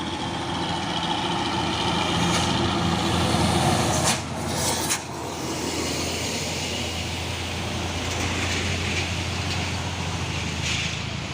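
A Hino trailer truck hauling an iron load passes on the road, its heavy diesel engine rumbling loud and steady, with a brief dip and whoosh midway, and no talk.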